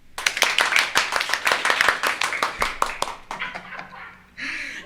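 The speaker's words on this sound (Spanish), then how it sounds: "Insertar efecto de aplauso." Applause sound effect in a Spanish-language podcast: a burst of sharp, closely spaced hand claps that thins out toward the end, with a short noisy swell following.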